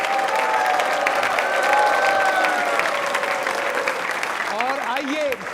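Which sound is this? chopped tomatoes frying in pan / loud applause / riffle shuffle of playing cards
loud applause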